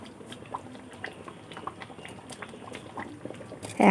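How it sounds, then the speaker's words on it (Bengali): Moong dal with a fish head bubbling in a pot, soft irregular pops and blips over a low simmering hiss, ending with a brief louder clatter, no speech. "আমি বেশ কিছুক্ষণ ধরে ফুটিয়ে নিয়েছি। ডাল কিন্তু রেডি হয়ে গেছে।"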